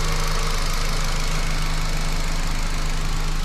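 A car engine idles steadily up close during a repair check on a leaking master cylinder, a loud, continuous rumble with a low hum and no talking over it.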